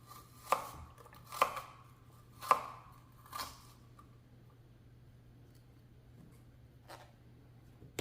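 Knife cuts through an onion on a cutting board in four crisp, evenly spaced chops, followed by a quiet pause and one faint tap, close and clear over a low hum.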